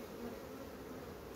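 Honeybees in a small nucleus colony give off a faint, continuous buzzing drone, steady and unbroken throughout.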